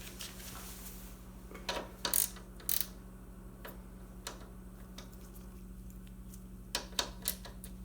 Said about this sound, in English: So what I use is a ratchet with a 1/4-inch socket